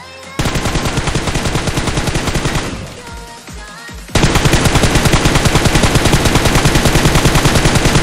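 Hip-fire gunshots in PUBG ring out as loud, rapid automatic bursts, one sustained volley, a brief quieter stretch, then another long continuous stream of close rapid fire without any talk.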